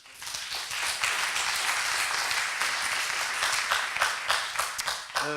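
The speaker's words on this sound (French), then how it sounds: "je pense qu'on peut aussi les applaudir" An audience at a round-table conference applauds the panelists, dense steady clapping from many hands that fills the room and then thins into scattered, separate claps at the end.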